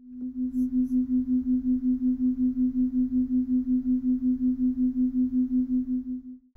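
Two steady pure tones 5.44 Hz apart sound together, making a loud, clear, regular pulsing beat that throbs evenly about five times a second from start to finish.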